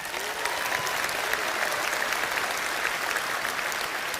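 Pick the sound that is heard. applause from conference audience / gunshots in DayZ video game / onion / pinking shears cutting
applause from conference audience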